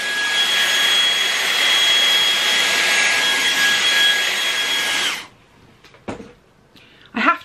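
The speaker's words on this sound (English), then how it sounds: "Dyson air curler with the bristles on the end" A Dyson air curler hair styler with a bristle brush attachment blows a loud, steady high-pitched whoosh for about five seconds, then cuts off, leaving a few brief knocks and handling sounds.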